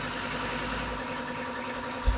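A Honda Beat scooter engine idles steadily nearby, a low even hum with a slight knock, its idle reported to drop despite a freshly cleaned throttle body.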